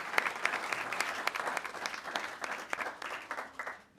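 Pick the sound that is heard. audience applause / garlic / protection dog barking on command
audience applause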